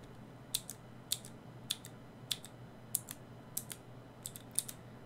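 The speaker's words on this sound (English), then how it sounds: "And then the third type is clicky, which is pretty much like tactile, except there's even more of a bump, and there's a clicky sound." Clicky mechanical keyboard switches typed in a slow, uneven series of about ten sharp, bright clicks, each distinct and close, with quiet pauses between presses and no talking.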